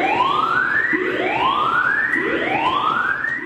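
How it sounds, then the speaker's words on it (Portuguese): A fire station emergency siren wails in steady, repeating rising sweeps, loud and continuous, about three overlapping cycles with no talking. "Quando a sirene toca"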